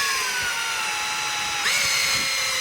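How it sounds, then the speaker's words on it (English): A power drill whines steadily as a 3/4 inch Forstner bit bores a hole, its pitch dropping slightly under load, then shifting as the bit cuts through. "I'm actually going to drill, it's a 3/4 inch hole with a Foster bit"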